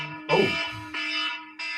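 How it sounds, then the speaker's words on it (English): A reminder alarm sounds in a studio, a loud electronic buzzing tone that pauses briefly and restarts twice, with a short spoken exclamation at the start. "that's the alarm to remind me"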